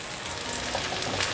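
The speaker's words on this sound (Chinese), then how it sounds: "我习惯先把煎饼煎定型。 定型之后，再来慢慢煎，给它上色。" Stuffed eggplant and bamboo shoot pancakes fry in a pan, making a continuous, fairly soft sizzle heard close up and alone, with no voices.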